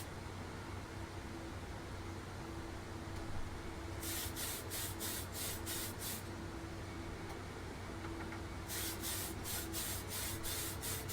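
Two bursts of aerosol flat coat spray hit a 1/144 scale Bandai Millennium Falcon model, short repeated hissing puffs in quick succession over a steady room hum and hiss.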